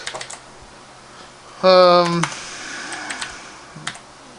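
Short burst of computer keyboard typing in a Neverwinter Foundry building session, a fast run of clicky keystrokes lasting about half a second, then quiet with faint background noise.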